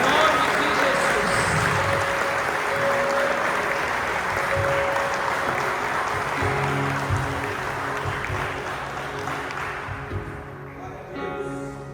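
Church congregation at a Sunday service clapping together, a dense sustained wash of applause over murmuring voices and faint music, thinning out toward the end.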